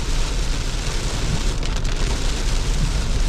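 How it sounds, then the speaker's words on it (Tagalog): Heavy rain pours steadily in a loud, dense wash during a road trip around Bolinao, holding constant and near with no voices throughout. "ang lakas ng ulan"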